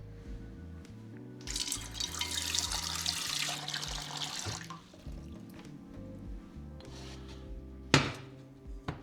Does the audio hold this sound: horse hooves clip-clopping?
no